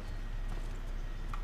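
Horse hooves clip-clop in the video game Assassin's Creed 3, a short run of soft rhythmic hoofbeats under a constant low rumble of game ambience.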